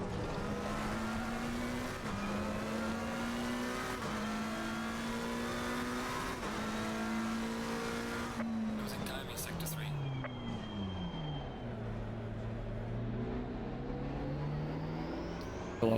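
A race car in a sim racing game, where a steady high engine whine holds through each gear and then winds down as the car slows, with tyre noise underneath and a voice talking over it.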